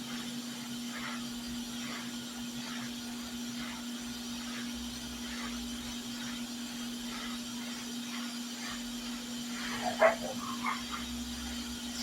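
Puppies bark faintly from a distance in a repair shop where a steady electrical hum runs throughout, a few small yips rising near the end.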